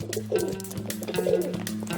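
Pigeons or doves cooing in short, soft phrases over a steady low hum, with faint chirps mixed in; a cartoon setting with birds gathered together.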